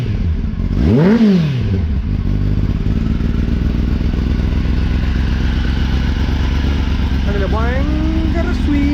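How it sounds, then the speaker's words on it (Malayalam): Kawasaki Ninja ZX10R 2024 motorcycle idling with a steady exhaust drone, broken by a sharp rev that rises and falls early on and another quick blip near the end; loud and close. "ഇനി ലാസ്റ്റായിട്ട് ഞാനിത് എക്സോസ്റ്റ് നോട്ടും കൂടി ഞാൻ കേൾപ്പിച്ചു തരാം"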